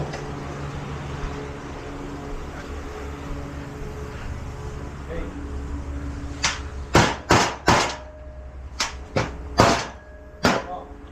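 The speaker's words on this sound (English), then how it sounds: "Oh, where's my hammer? Hammer time." Hammer beating a pin out during a trailer brake module recall repair on a newer Dodge truck: six or seven sharp, loud metallic strikes in an uneven sequence over steady background noise in a garage.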